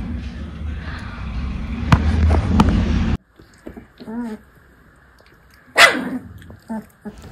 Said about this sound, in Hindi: तो यहाँ पे सब भौंक रहे हैं